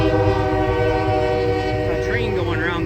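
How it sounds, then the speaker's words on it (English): A train rolls past in the background behind a 1967 Plymouth GTX, a loud steady rumble with a horn-like tonal drone throughout and a few rising squeals near the end. "A train going around the background there"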